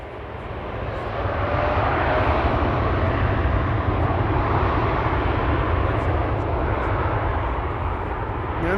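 A fixed-wing airliner departs Amsterdam Schiphol Airport, its jet engine roar building and holding as a loud, steady broadband rumble throughout.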